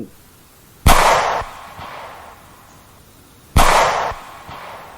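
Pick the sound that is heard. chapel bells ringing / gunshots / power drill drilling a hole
gunshots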